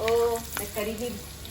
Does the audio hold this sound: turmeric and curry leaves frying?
yes